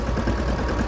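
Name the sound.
tractor engine idling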